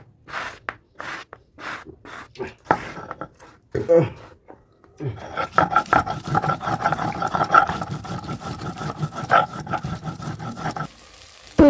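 Potatoes fry in a pan while being stirred, giving a sizzling hiss broken by repeated scraping strokes that grow denser in the second half, with someone talking over the cooking.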